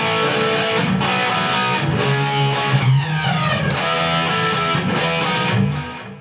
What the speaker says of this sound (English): So when you turn the flanger on those parts, it sounds like this.